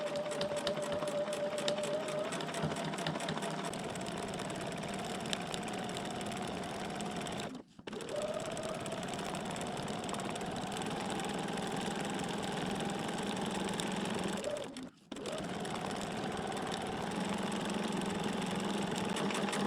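A sewing machine stitching a quilt block runs almost continuously with a steady mechanical hum and rapid needle rhythm, briefly stopping twice, close and prominent.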